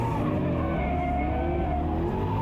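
A drift car running a lap on track: sustained engine drone with rising and falling harmonic tones as the revs shift, tire noise underneath, steady and fairly close throughout.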